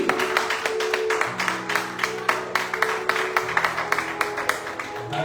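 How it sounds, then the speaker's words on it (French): Church congregation claps in a steady, rhythmic beat of sharp repeated hand claps at moderate distance, with sustained musical tones and a low hum running underneath. "Can somebody clap?"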